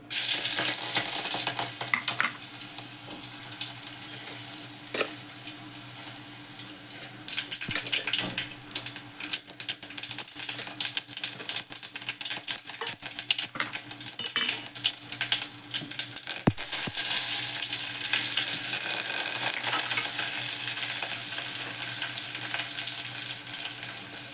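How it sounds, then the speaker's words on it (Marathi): Tempering (phodni) sizzles in hot oil for puran made from cooked dal, a steady, dense crackling hiss that runs throughout with small pops and clinks, loud and close, with no talk. "पुरणाला फोडणी घालून घेते तेल घातले"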